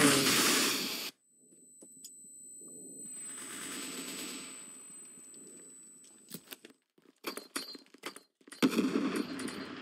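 Automatic gunfire in the game CB:RO crackles in a loud burst at the start, then returns as scattered sharp shots and rapid clusters toward the end, with game sounds in between.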